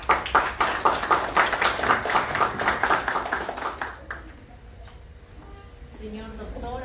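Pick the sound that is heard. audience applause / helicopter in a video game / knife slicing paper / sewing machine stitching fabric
audience applause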